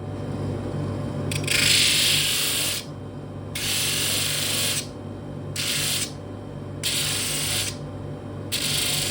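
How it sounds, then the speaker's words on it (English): A disc sander whirring continuously while a glued wooden block is pressed against it in bursts, each contact adding a harsh, hissing grind over the motor drone, repeated about five times, close and loud. "I'm just going to sand this down on the disc sander just to take that lip off there"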